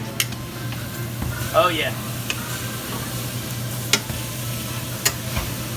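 Pineapple slices sizzle in a pan of rum caramel for a flambé, a steady frying hiss with occasional clacks as the slices are turned, while a person briefly speaks over it.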